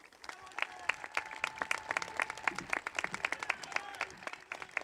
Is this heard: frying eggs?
no